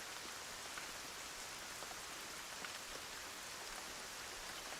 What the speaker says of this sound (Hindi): बारिश रुक ही नहीं रही।